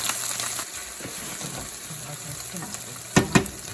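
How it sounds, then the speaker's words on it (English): The base for pasta fazool frying in a pot with a steady close sizzle while a spoon stirs through it, ending in a couple of sharp knocks of the spoon against the pot. "Let that fry up a little bit. Get my trusty spoon."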